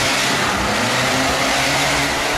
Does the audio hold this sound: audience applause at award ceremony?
no